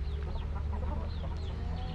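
Large Indio Gigante hen clucking in repeated short calls, close and fairly loud, with other fowl sounds around her on a farm and a steady low hum underneath.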